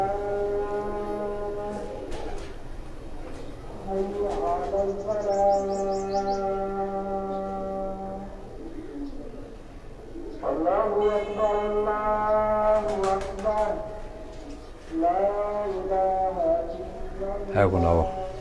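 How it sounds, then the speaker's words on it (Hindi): Several distant calls to prayer overlap in long, melodic sustained phrases drifting from afar over a rooftop setting, with quiet background noise and occasional nearer sounds. "अजानें हो रही हैं"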